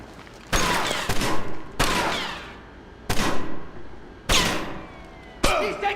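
Gunshots in the Splinter Cell Chaos Theory video game: five loud, sharp blasts spaced about a second apart, each trailing a long ringing decay.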